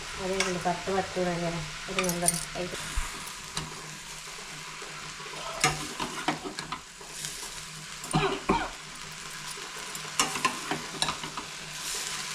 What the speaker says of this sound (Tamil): எல்லாத்தையும் சேர்த்து ஒன்றா கலந்து விட்டுடலாம்